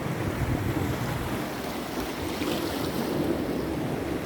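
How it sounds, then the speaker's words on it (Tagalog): Sea waves at the seaside surge and wash continuously, with broad surf noise and buffeting wind on the microphone throughout, steady and fairly loud with no talk. "Oh, grabing alon no."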